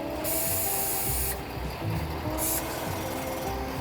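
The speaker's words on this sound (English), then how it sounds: "And you can hear the compressor going." An ARB dual stage air compressor on a Ford F-450 truck camper runs with a steady mechanical whir and a loud hissing rush that comes and goes, close by and with no talk.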